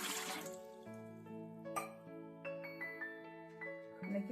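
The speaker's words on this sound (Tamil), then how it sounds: "ஒரு சம் தண்ணி விட்டுக்கலாம்" Water pours and splashes briefly into a metal idli steamer pot, then gives way to steady background music with sustained tones.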